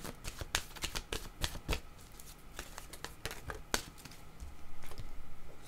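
Oracle cards being shuffled by hand, a quick series of crisp riffling flicks and soft slaps in irregular bursts, close and quiet with no talking.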